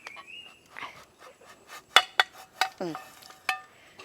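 Fried bread and egg are knocked out of a pan into a dish: a handful of sharp metallic taps and clatters, close and fairly loud, separated by short quiet gaps.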